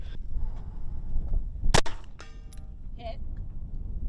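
One sharp, loud report from a 9mm pistol firing a subsonic 124 grain bullet, with a brief ringing clang after it, over outdoor background rumble.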